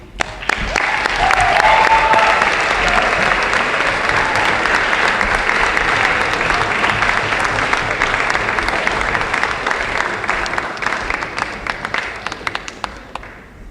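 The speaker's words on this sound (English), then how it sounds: "Please give a round of applause to Grégory." At a spring athletic school assembly, an audience applauds an award winner with sustained, loud, dense clapping that swells early and then tapers slowly over several seconds.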